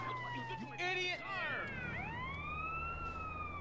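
A wailing ambulance siren from GTA San Andreas sweeps up and down repeatedly and stays loud and close over a low game engine drone, while someone speaks briefly.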